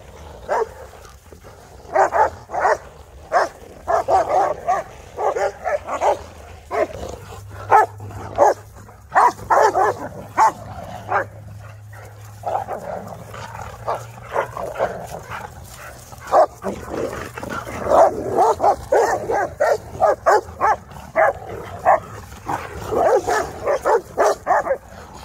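Several dogs bark and yip excitedly at a Rottweiler kennel, dense repeated barks in bursts throughout, fairly close and loud, with occasional whimpers mixed in.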